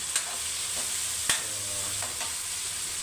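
Tofu frying for tokwa sisig in a pan: a steady, loud sizzle with faint stirring scrapes and a sharp clack or two partway through, no talking.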